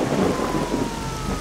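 Thunder rumbles through a storm in S.T.A.L.K.E.R. Shadow of Chernobyl, a steady, deep roll lasting the whole moment with rain hissing over it and a faint high tone drifting in the background.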